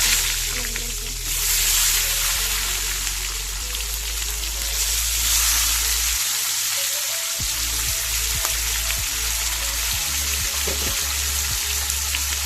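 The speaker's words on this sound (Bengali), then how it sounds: "তো বন্ধুরা, এই মাছ ভাজার তেলে এবার টমেটোগুলো দিয়ে দেবো," Tomatoes sizzling in hot oil left over from frying shing fish, a steady dense crackle and hiss throughout with occasional sharper pops and stirring sounds.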